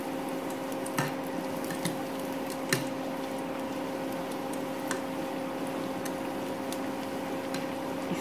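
Bread slices shallow-frying in oil for shahi tukda, a steady low crackling sizzle with soft pan clicks and occasional utensil taps, no voices.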